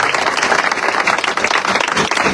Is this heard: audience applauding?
yes